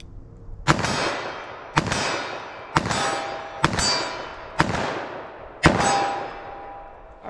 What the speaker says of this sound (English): I'm just trying to get a front sight picture as fast as I can and pop those shots off